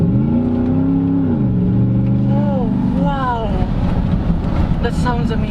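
A 2012 Ford F-150 SVT Raptor pickup's V8 engine revs loud and close, its pitch climbing in rising sweeps over a steady rumble, with people talking over it.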